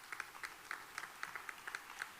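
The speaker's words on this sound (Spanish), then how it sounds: "Un aplauso." An audience at a vaccine conference in Almería, Spain, claps in faint, distant applause, with scattered hand claps repeating steadily for a couple of seconds.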